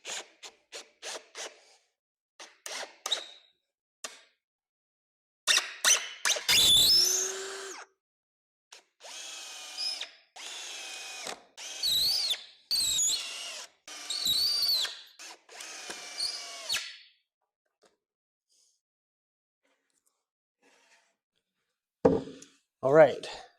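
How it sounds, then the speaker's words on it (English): Power drill driving screws into wood while assembling a wooden cross Christmas tree: repeated short whirring bursts, then several longer sustained runs, close and fairly loud, with brief pauses between screws and a final burst after a quiet gap. "So I'm gonna screw all of that stuff together."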